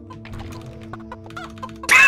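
A chicken clucks in the Heretic video game, a string of short, rhythmic clucks over a steady hum before a loud, bright burst of noise breaks in at the end.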